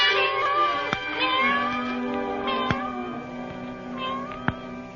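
A cat meows repeatedly in a series of drawn-out, wavering cries, fairly close and loud, with a few sharp knocks and thumps in between.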